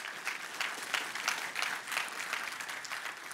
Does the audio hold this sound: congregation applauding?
yes